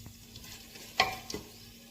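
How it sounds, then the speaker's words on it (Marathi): Whole spices, including split black and green cardamom, hit hot oil in a pressure cooker, giving a soft sizzle with a sharp crackle and a couple of small pops. "तेलामध्ये आता हे खडे मसाले टाकायचे।"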